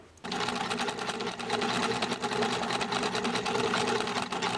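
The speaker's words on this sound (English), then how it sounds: "So now I'm going to sew across the top all the way around, and this will be attached." A sewing machine stitches a baby slip dress, running in one continuous close, rapid, buzzing whir after a brief start.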